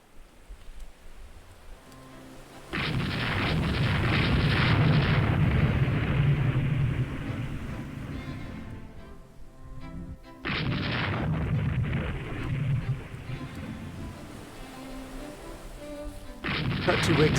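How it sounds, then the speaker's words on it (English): Warship guns fire in the naval game Rule the Waves 2 as heavy booming salvos in three separate bursts, each a long roaring rumble. Quieter gaps and a low background hum fall between the salvos. "All ships open fire on the cube."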